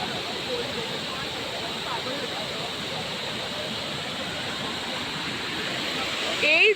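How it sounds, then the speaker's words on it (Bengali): Water pours down a mountain stream along a trekking trail near Munsiyari, making a steady, loud rushing roar that runs unbroken throughout. "জলটাই ওখানে নামছে"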